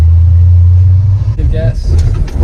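Manual Ford Mustang engine on a hill giving a low, loud rumble at close range, with voices talking over it in the cabin.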